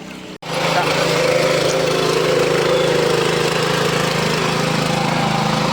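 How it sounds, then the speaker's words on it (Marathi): A tractor engine runs steadily in a farm field during rice transplanting, a loud, continuous droning rumble that starts after a brief dropout and holds at an even level throughout. "इकडे ट्रॅक्टर फिरवत आहे गरगरव"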